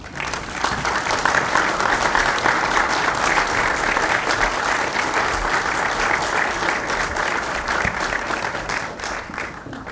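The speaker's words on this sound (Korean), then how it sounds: "다 같이 자리에서 일어나셔서 큰 박수로 맞이하겠습니다" A church congregation stands and applauds at a dedication and founding service, a loud, full wash of many hands clapping steadily from start to finish.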